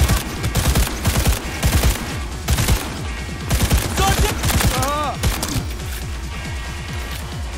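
Rapid automatic gunfire in Cyberpunk 2077, loud bursts of closely spaced shots with brief pauses between volleys, and a voice briefly heard beneath the shooting.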